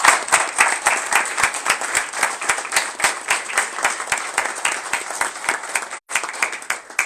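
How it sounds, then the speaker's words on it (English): A crowd at a funding celebration for educators claps steadily and fairly loudly throughout, dense applause with no talk, briefly dipping near the end. "So can we just take a moment to hand clap our educators?"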